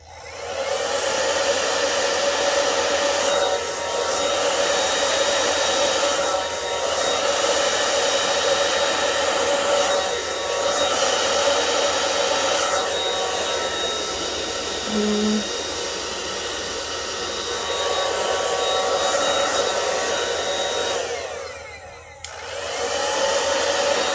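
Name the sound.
hair dryer on cool low setting blowing paint pour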